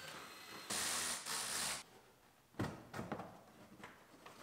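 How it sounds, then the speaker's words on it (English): Bolts being removed from the top of a damaged GMC Yukon bumper, with two short, loud whirring bursts of a power tool followed by scattered metallic clicks and clunks, quiet and close. "Unbolt the top of the bumper."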